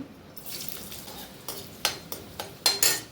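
Chopped garlic and ginger frying in hot white oil in a wok, a soft sizzle broken by several sharp spatula scrapes and clinks against the pan, close and fairly quiet.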